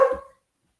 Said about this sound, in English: When he finds a bunny, he loses his little doggy mind.